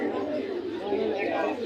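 Pigeons coo continuously at a busy pigeon market in Bangladesh, a dense warbling murmur of many birds close by, with people chattering throughout.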